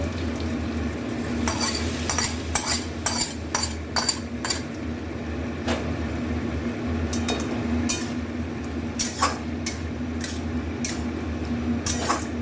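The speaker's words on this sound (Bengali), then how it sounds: "এবার ফোড়নটা দিয়ে আর একটু হতে দেবো" Spices sizzle as tempering goes into a vegetarian potato curry in a kadai, a constant frying hiss with a spoon repeatedly stirring, scraping and clinking against the pan.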